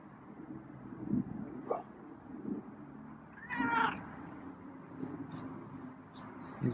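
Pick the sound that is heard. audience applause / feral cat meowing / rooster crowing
feral cat meowing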